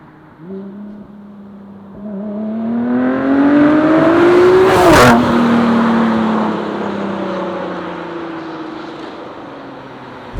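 A Ford GT Carbon Series supercar engine revs up while driving, pitch climbing steadily to a loud peak with a sharp burst, then easing back down to a lower drone, close and with no talk.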